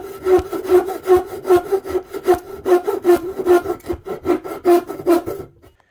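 A hand saw cuts a notch into a bracket for an RV table with about a dozen even back-and-forth rasping strokes, loud and close, stopping abruptly at the end.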